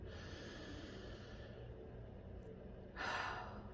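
A person takes a single deep breath in during a quiet forgiveness meditation. After a soft, low background hush, a clear, airy inhale comes close to the microphone near the end.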